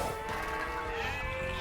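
Sheep bleat in the Age of Empires II video game, a steady tonal call heard alone and close, with no talk over it.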